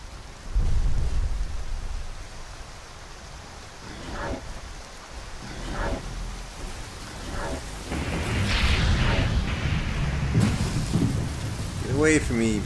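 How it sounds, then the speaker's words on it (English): A video game thunderstorm rolls on with steady rain, deep rumbling thunder and a few cracking strikes, fairly loud and continuous, while someone talks now and then over it. "Looks like there's going to be a little more lightning coming down here."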